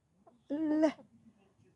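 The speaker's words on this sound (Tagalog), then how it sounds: "Ay, may manok." A single short cluck-like squawk from a chicken, close by, followed by quiet background rustling.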